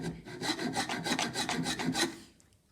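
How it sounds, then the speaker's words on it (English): A wood rasp scrapes back and forth over a wooden workpiece to remove saw marks, giving a quick run of rhythmic, gritty rasping strokes at close range that stops after about two seconds. "the rasp will get rid of the saw marks"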